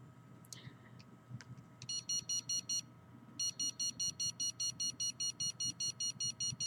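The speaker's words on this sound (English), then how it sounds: "this alarm goes off" Electronic alarm beeping inside a home, loud and close, sounding in regular repeated bursts of rapid high-pitched pulses, with short pauses between groups, over a low steady background hum.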